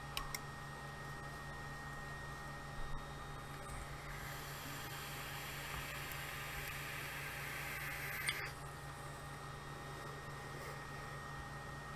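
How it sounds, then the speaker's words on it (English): Creality CR-10 3D printer running, a steady faint mechanical hum and whine with a brief brighter high-pitched stretch midway, no voices. "everybody talks about the CR10 being a loud printer"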